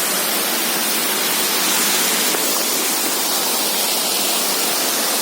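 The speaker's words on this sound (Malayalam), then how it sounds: "താഴോട്ട് വെള്ളം പോകുന്നു. ഇതിലെയാ നമ്മുടെ തോട്ടിലോട്ട് വെള്ളം വരുന്നത്." Water from a village pond pours down into a stream, a loud, constant close-up rushing roar that holds steady without pause.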